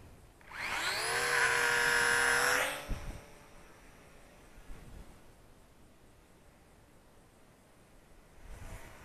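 The motor of an Eachine Mini Mustang P51D RC plane whines loudly for about two seconds, a rising, high tonal buzz, then fades into faint wind and outdoor hiss as the plane flies off.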